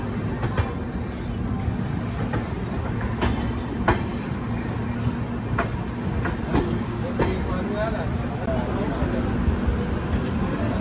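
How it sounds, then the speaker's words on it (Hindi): The Veerbhumi Express pulls out of Nagda Junction on the Indore to Udaipur route. Heard from on board, it gives a continuous rumble with regular clickety-clack wheel beats and occasional knocks, under a voice. "तो ट्रेन यहाँ से डिपार्ट कर रही है और ये है नागदा जंक्शन"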